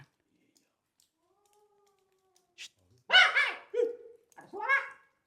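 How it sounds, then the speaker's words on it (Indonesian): Cat-like cries echo inside a cave: several short wavering calls in quick succession after a quiet stretch, fairly close and clear. "Kucing apa ini ya?"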